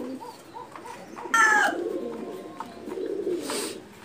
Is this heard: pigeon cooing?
yes